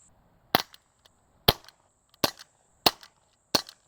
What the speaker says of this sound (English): So we're gonna go ahead and shoot the 19X now